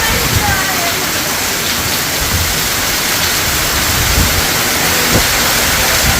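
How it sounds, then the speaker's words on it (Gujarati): Wind-driven rain lashes a village yard, a dense, constant hiss of downpour close by with occasional louder splashes, and no clear voices over it. "પવન અને વરસાદ"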